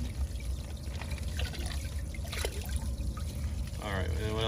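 Water from a backyard fish pond poured out in a steady, splashing trickle that runs the whole time, with a voice coming in briefly near the end.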